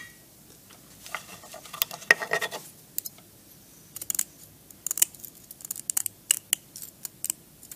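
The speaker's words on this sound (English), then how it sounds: "I'm going to get the scissors and cut up alongside the wire." Scissors cut up alongside a wire cone while a safe candle surround is being made, a string of small close snips and crisp clicks coming in short irregular bursts.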